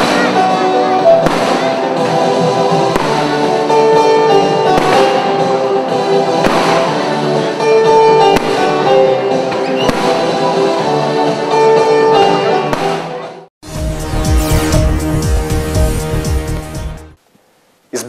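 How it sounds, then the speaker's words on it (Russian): Closing fireworks at a town celebration in Shebekino: music with regular sharp pops runs for most of the stretch, then a dense, loud burst of bangs erupts near the end before cutting off. "организаторы порадовали шебекинцев и гостей нашего города ярким фейерверком"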